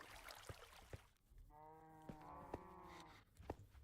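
A cow moos in Minecraft, one drawn-out tonal moo in the middle of the clip, fairly quiet, with soft thumping steps around it and no talk.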